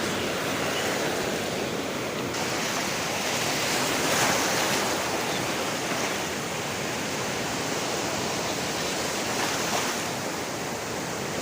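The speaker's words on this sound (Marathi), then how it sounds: "लाटा एकदम किनाऱ्याला आलेल्या आहेत" Sea waves break and wash up on a Konkan beach near Revdanda, a loud, continuous roar of surf with gentle swells in intensity and no talking.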